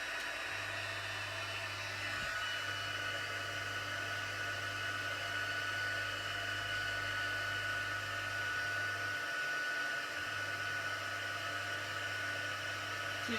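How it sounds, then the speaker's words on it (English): A heat gun blows steadily on embossing powder on a card, a continuous loud whooshing hum with a low drone that cuts out briefly twice, with no talking. "Right, and then heat up my heat gun."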